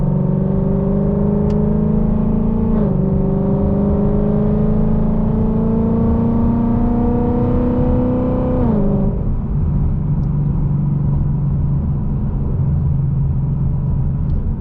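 A modified 2018 Ford Mustang GT V8 with aftermarket headers revs up to about 3,500 RPM, its loud, steady rising drone climbing for several seconds before dropping off sharply into a deep idle rumble.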